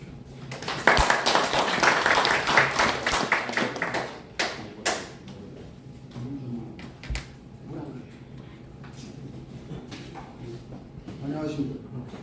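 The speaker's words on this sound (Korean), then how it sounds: "박수로 맞아주십시오." Brief scattered clapping from an audience at a talk on North Korean upheaval and unification welcomes a speaker, fading within a few seconds into room noise, shuffling and a spoken voice.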